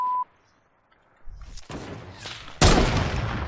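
Gunshots in Fortnite, a few sharp loud bursts after a short quiet pause, the last blast the strongest, close and without talk.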